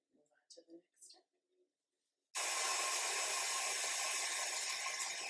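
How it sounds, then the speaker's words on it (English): A stand mixer beats egg whites and sugar into a meringue, starting abruptly after a few seconds of quiet kitchen noises and then running as a loud, steady whirring drone close by. "as you can hear, my stand mixer is working. It is making the meringue"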